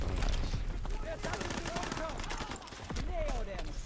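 A Bren light machine gun in Call of Duty WW2 fires in close, rapid repeated shots, with someone talking over the gunfire throughout.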